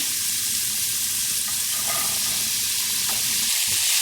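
Vegetables for momo filling sautéing in a hot pan, a steady broad sizzle and hiss throughout, with faint stirring scrapes and clinks over the frying.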